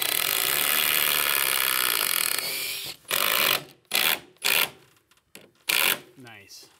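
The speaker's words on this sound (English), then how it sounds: "So I'm gonna pre-drill." Power drill pre-drilling a screw hole into wood blocking for recessed deck soffit bracing, a steady whirring run for a few seconds, then several short separate bursts, close by with someone speaking briefly.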